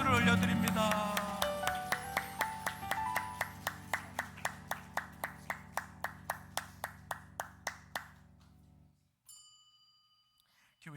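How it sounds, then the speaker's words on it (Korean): A church congregation at Sunday morning worship claps in a steady, even rhythm, about two beats per second, over sustained keyboard tones. The clapping stops abruptly near the end, leaving a brief faint ringing. "하나님께 감사와 영광의 박수를 올려드립니다."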